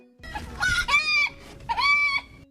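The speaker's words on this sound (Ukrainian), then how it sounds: "Курочка кудахче." A hen clucks and squawks in a few drawn-out bursts, close by, with short pauses between calls.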